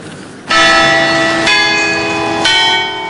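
Church bells ring out at the Los Angeles archdiocese: three loud, resonant strikes about a second apart, each leaving a long shimmering hum that overlaps the next.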